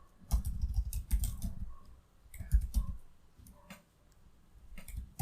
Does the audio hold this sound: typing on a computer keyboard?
yes